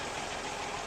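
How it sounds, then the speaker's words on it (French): A John Deere 1630 tractor engine in a video game mod runs steadily with a rough, continuous mechanical drone that is loud and even throughout, and no one speaks over it. "Ouais, il y a un bruit de vieux tracteur."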